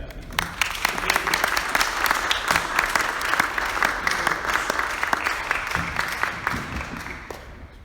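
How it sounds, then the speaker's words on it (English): Sustained applause from an audience, a dense patter of many hands clapping steadily throughout before tapering slightly at the end. "a huge round of applause to yourself, Craig, for creating what you're creating"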